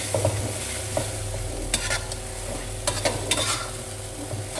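Thai basil chicken with bamboo shoots, sweet red pepper and holy basil is stir-fried in a sticky sauce, sizzling steadily close by with sharp clacks of a spatula scraping and tossing against the pan.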